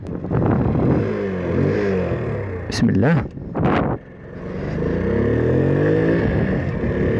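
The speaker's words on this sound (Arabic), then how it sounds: "غادي نديرو تيست رايد ونشوفو السلبيات والايجابيات ديال هذا الموتور" A Honda C90 moped engine revving on a test ride, its puttering idle rising in pitch through several revs with a brief sharp clatter midway, while someone speaks briefly.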